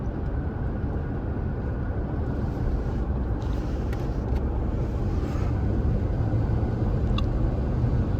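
Ford F-150 pickup truck on its original transmission, driving with a loud, steady engine and road roar throughout, no distinct shift clunk standing out.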